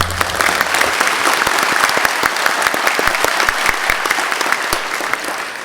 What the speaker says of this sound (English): Let's have a warm hand of applause for our panel